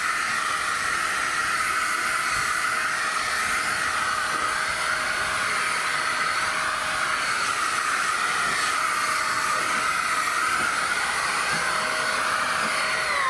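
A steady, loud hiss of a cordless paint sprayer runs continuously with a motor whine underneath, unbroken for the whole stretch.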